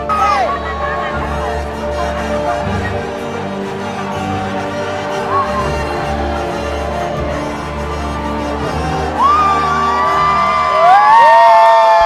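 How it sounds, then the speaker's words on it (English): A huge festival crowd at Indra Jatra roars steadily throughout, a dense wash of cheering, whoops and shouting voices over a low rumble of music, swelling louder toward the end. "Me, you, and the roar of the crowd."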